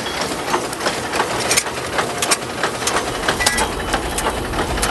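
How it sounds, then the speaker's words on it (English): A showman's traction engine runs at a fair, giving a steady mechanical chug with a dense, busy rumble and scattered clanks and crowd noise around it, moderately loud throughout. "These engines pull the fares from town to town."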